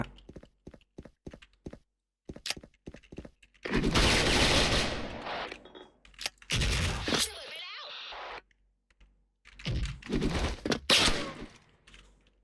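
Gunfire in the shooter game Special Force, heard as sharp bursts and single shots with loud sustained volleys, mixed with quieter clicks and game noise.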